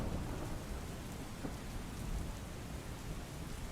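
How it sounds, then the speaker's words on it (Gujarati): Heavy downpour over Bhavnagar city in Gujarat, a steady dense roar of rain hitting surfaces with low rumbling underneath, continuous and loud throughout with no voices. "ભાવનગરના શહેરના તમામ વિસ્તારોમાં ધોધમાર વરસાદ"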